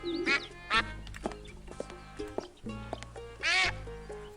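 A duck in the Monkey Island 4 video game quacks several times, nasal squawks spaced irregularly over a few seconds, close and clear, with no talk over them.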